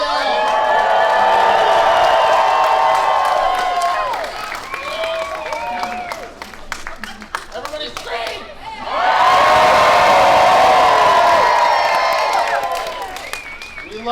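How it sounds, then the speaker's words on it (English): A large fan expo panel audience for a Smallville cast reunion yells, whoops and cheers in two loud bursts separated by a quieter stretch, with scattered clapping and voices mixed in. "Everybody yell!"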